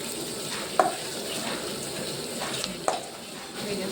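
Cumin is stirred in a pan while a tomato curry cooks, with a quiet, constant sizzle and two distinct metallic clinks of a utensil against the pan.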